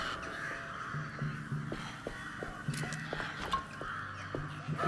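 Crows caw loudly in a video game, Alone in the Dark, with harsh calls repeating over a steady ambient background, some close and some further off.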